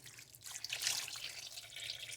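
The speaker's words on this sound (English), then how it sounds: "I turn it on low and I just pour in some water" Water poured into a crockpot set on low over beef, a steady splashing, rushing flow close by that runs without a break for a couple of seconds, with no talk over it.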